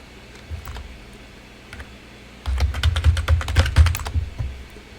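Someone types a command on a computer keyboard, first a few isolated taps and then a quick, close burst of clicking keystrokes with low thumps.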